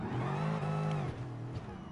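Bugatti Veyron engine in Gran Turismo Sport pulling hard at very high speed, a loud continuous roar with rising harmonics through two seconds, a brief dip around a gear change, then climbing again.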